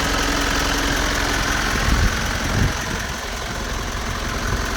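A Mitsubishi FE84 truck engine with a small turbo idles steadily up close, a loud, continuous diesel rumble with an even mechanical clatter and a couple of brief low thumps partway through.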